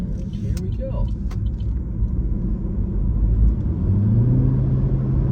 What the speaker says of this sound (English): So you can kind of hear that generator kick on.